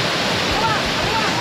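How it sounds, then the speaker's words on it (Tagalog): Balagbag Falls waterfall with water crashing down, a loud, dense, steady rush close by that fills the whole short stretch. "Grabe, lakas ang ano, hampas ng tubig so from the falls,"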